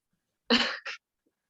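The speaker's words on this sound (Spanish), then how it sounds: "estornudo" A single sneeze bursts out in a quiet room during a law class session, a sharp loud burst followed by a brief second puff, then silence.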